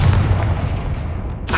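A Confringo blasting spell goes off in Hogwarts Legacy: a single loud, booming blast with a broad rumbling tail that fades over about a second, followed by a brief sharp crack at the end.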